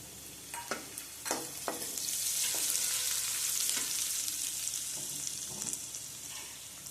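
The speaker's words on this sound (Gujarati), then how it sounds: "આપણે આદુની પેસ્ટ નાખી દઈશું, છીણીને લીધું છે ખમણીને," Grated ginger paste sizzles in a pan as part of a Gujarati bitter gourd curry, a bright hissing fry with several sharp stirring clacks early on, rising to a steady sizzle before settling down.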